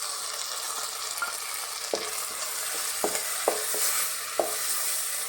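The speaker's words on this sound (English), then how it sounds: "Tomato I will saute till it becomes soft" Onion and tomatoes sauté in a pan for Goan squid ambot tik, giving a continuous close sizzle with several sharp clacks of a spatula stirring against the pan, and no talking.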